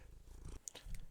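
A pet cat purrs close by, a soft low rumbling pulse that comes and goes in quiet, uneven waves, with no talking.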